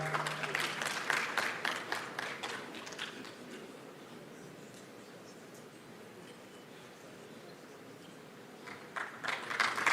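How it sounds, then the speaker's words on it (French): Applause from an audience at a Senegalese diaspora national day ceremony, bursts of clapping at the start and again near the end, thinning to a low crowd murmur in between. "Applaudissez"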